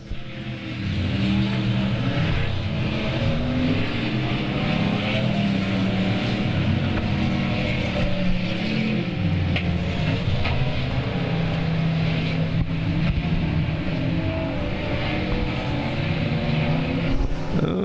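Race cars lapping the oval at South Texas Speedway, a continuous loud engine roar that rises and falls as cars pass close by, with no voices over it.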